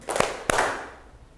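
A classroom of students claps hands together on a counted beat, two sharp, crisp group claps about a third of a second apart, with a short reverberant tail fading afterward.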